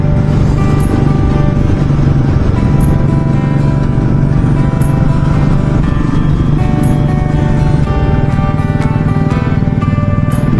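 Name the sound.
riding Royal Enfield Classic 350 motorcycle on highway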